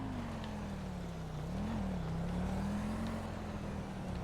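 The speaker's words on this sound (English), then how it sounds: "Heard a revving, but I think it's just an AI" A car engine in GTA 5 drones at a fairly steady pitch, dipping and rising slightly as it revs, faint and somewhat distant over a low background hum.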